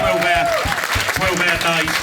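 A small comedy club audience at an Edinburgh Fringe show claps in a dense, continuous round of applause, close and loud, with voices and cheers mixed in throughout.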